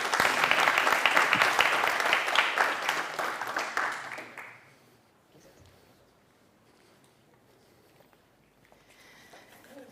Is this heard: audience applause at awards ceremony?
yes